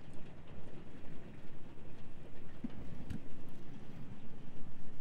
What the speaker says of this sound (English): It's not like huge hail